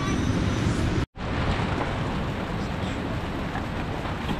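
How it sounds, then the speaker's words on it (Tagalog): Strong sea waves at a beach roar in a steady, broadband wash, heavy wind buffeting the microphone throughout, with a brief dropout near the start. "malakas ang alon, eh."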